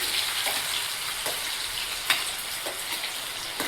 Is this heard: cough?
no